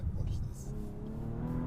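An old Bentley accelerates hard on a wet, slippery road, its engine note rising in a loud sustained roar with tyre and spray noise, while someone talks over it.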